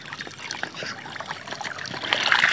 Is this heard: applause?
no